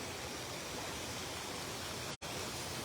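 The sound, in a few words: water flowing by a river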